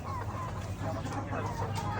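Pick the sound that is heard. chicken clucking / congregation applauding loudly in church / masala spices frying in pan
chicken clucking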